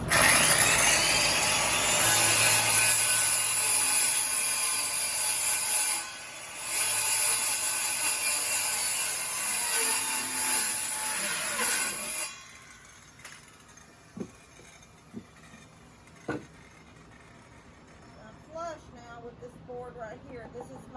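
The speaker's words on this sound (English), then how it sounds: "I'm using my saw with a cord, my corded saw." A corded power saw cuts down into a tree stump, a loud, continuous rasping whine for about twelve seconds that stops abruptly, leaving a few scattered knocks and light handling sounds.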